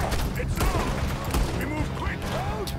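Gunfire crackles through a Red Dead Redemption 2 shootout, with rapid overlapping shots and mechanical clatter under someone talking throughout.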